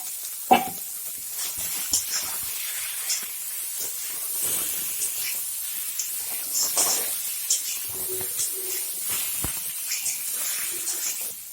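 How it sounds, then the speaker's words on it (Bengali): Fried broccoli and potatoes stirred into a sizzling spice paste in a pan, giving a continuous hiss with scattered scraping and clattering stirring knocks, close and fairly loud, with no talk. "ভেজে রাখা ব্রোকলি আর আলু দিয়ে দিলাম ভালো করে মশলার সঙ্গে মিশিয়ে দেব"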